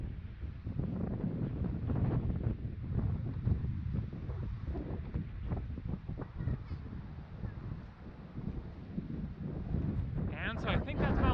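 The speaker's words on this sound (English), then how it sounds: "The wind is kind of intense here." Strong wind buffets the microphone on a hike at Lassen Volcanic National Park, a loud continuous roar with gusty rumble throughout, with faint talking mixed in.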